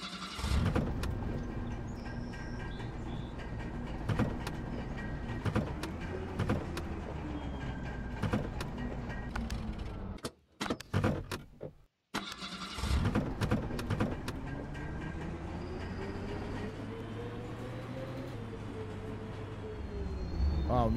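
A steady bus engine drone in the game Bus World runs throughout with a shifting low hum rising in pitch, briefly cutting out midway before resuming, with clicks and rattles over it.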